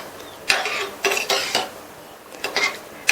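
A spoon scrapes and clinks against a pot while stirring sambar with cooked lentils, tomato and added water, making several separate clattering strokes close by.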